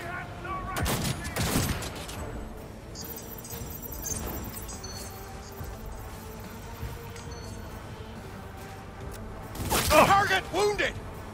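Gunfire from a firefight in the video game Cyberpunk 2077, with sharp bursts of shots near the start and again near the end over a busy, rumbling game soundscape, while voices shout in the background.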